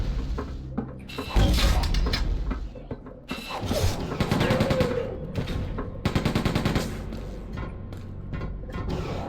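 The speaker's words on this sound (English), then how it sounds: "It's a proximity bomb launcher" A proximity bomb launcher fires in Quake 2 on the N64, producing repeated loud blasts and clanking mechanical bursts in an uneven, rapid rhythm that runs almost continuously over game sounds, with no talking.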